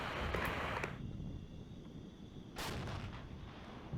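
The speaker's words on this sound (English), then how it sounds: "I'm going to call in an artillery barrage." An artillery barrage in the night-raid strategy game Regiments, heard as a distant rumbling boom with a sharp burst near the end over a steady windy background, no voices.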